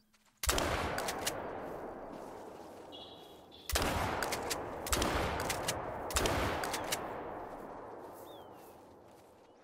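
Four loud gunshots in the hunting video game theHunter: Call of the Wild boom at irregular intervals, each with a long rolling echo that fades slowly, plus a brief faint tone between the first two.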